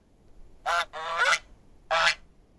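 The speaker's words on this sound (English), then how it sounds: "goose" A goose honks three times in quick succession, loud and close, with short gaps between the calls and no other sounds.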